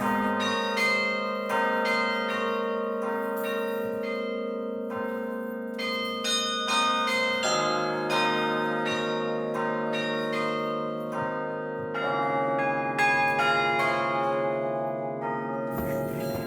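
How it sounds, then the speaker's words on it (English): Large church bells ringing loudly up close inside the bell tower, overlapping strikes with long sustained ringing tones that blend into a dense, continuous clang. "It is so loud up here when those bells are going."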